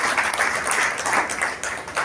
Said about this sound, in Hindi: इसी के साथ तालियों की गड़गड़ाहट से संगठित कार्यक्रम का स्वागत कीजिए।